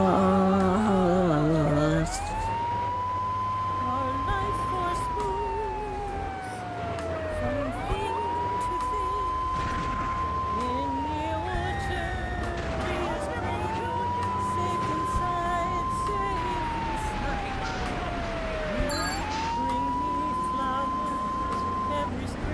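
A police car siren in GTA III Definitive Edition wails in repeated rising and falling sweeps about every five seconds over a running engine. Brief voice-like sounds come through early on.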